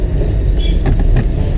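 Driving-school car pulling away in third gear with the clutch held: a steady, loud engine rumble heard from inside the cabin, with a few faint clicks and no talk.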